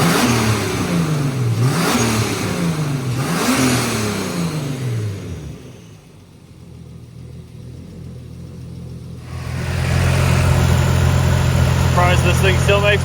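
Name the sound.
BMW E30 touring S52 turbo engine revving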